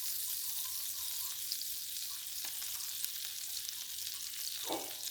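Half a stick of butter sizzles in a pan on medium heat while making shrimp ramen, a steady soft frying hiss that carries alone throughout with a faint clink near the end.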